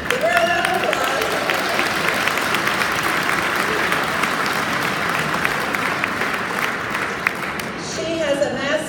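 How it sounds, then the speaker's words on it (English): An audience at a retirees' legislative day event claps for a guest, the Missouri state auditor, producing a sustained dense round of applause that fills the room, with voices briefly heard at the start and end. "Nicole Galloway. She, give her a round of applause."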